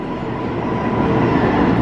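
A New York City subway C train pulls out of the station, a steady, loud rumble of wheels and rail noise that builds slightly as it leaves, with no talk.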